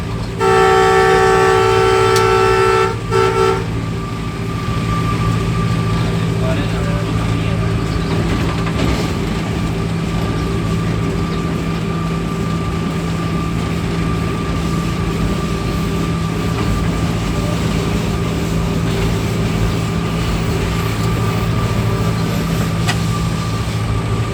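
Green Line passenger train in Pakistan running at about 70 km/h on the Rawalpindi to Lahore route, a loud locomotive horn blast at the start, then a steady rumbling roar of wheels and engine that continues throughout.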